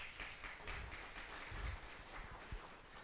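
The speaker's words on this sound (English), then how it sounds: "Let's give John a round of applause." An audience at an investment managers' forum applauds, a faint and distant, steady patter of many hands clapping throughout.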